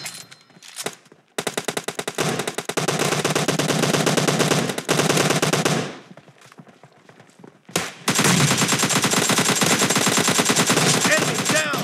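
Rapid automatic gunfire from a shooting video game, long loud bursts of machine-gun fire broken by short pauses, dense and continuous.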